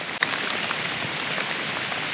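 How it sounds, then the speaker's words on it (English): Steady rain falls on a wet woodland campsite, a dense even hiss of drops on surfaces, with one brief thump near the start. "Windy, it's raining"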